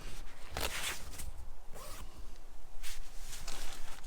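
A Kuiu tent's zipper pulled in several short, raspy bursts, faint and close, with soft rustling of tent fabric between the pulls.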